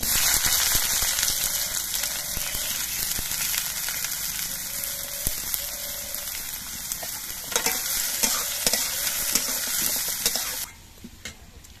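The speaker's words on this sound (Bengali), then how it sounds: "এবার এই তেলের মধ্যে দিয়ে পেঁয়াজগুলো ভেজে নিচ্ছি।" Onions frying in hot oil give a steady, dense sizzle with crackles and occasional stirring, close and fairly loud, then drop abruptly to a quieter hiss near the end.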